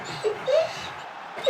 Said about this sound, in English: And Copper barks at something